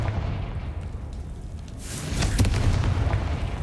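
In the Hogwarts Legacy video game, a Confringo blasting spell goes off as a deep rumbling boom with a sharp crackling burst, close and loud over a continuous low roar, with no talking.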